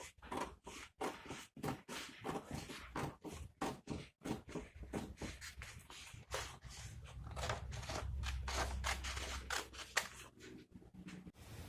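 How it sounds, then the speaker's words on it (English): Scissors cutting sheets of paper for a Dollar Tree chevron pumpkin craft: a rapid series of crisp snips and crunches, close and fairly quiet, with no talk. "go ahead and cut your paper"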